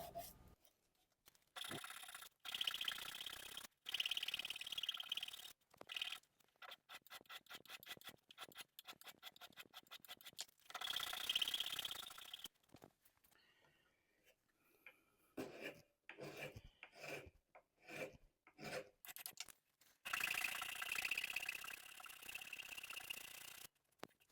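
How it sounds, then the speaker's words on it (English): 120-grit sandpaper rubbing on the wooden tote of a Stanley hand plane, quiet rasping strokes in quick rhythmic bursts separated by short pauses. "Here I'm using 120 grit sandpaper to smooth the top of the tote out"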